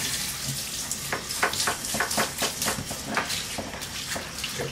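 A tap runs steadily while hands are rinsed under it during a puppy bath, a continuous close splashing patter with small irregular spatters and no talk.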